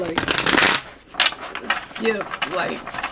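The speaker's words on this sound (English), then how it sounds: "shuffle the deck differently than others" Close, crisp riffling of a deck of cards being shuffled in quick bursts, with a voice speaking between the bursts.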